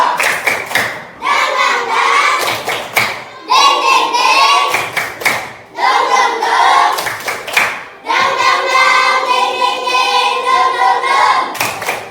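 A primary school class chants a spirited call in unison, loud children's voices rising in long sung phrases broken by crisp bursts of synchronized clapping at regular intervals.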